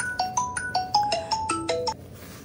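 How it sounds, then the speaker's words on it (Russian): A telephone ringtone plays a bright, repeating electronic melody of quick stepped tones, loud and close, before cutting off near the end. "Телефон звонит."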